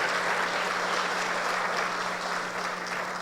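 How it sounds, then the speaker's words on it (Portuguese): Dense, steady applause from a church congregation during an evening service, filling the room at constant loudness over a low electrical hum. "aplauda esse Jesus tão maravilhoso nessa noite"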